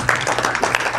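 Audience applause in a room for a community event, a steady wash of many hands clapping for about a second with no clear gaps, moderately loud and close.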